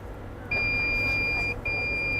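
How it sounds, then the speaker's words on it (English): An electronic device emits two steady, loud, high-pitched beeps while connecting, the first about a second long and the second starting right after a brief gap. "No, should be only one beep, then only it will get connected."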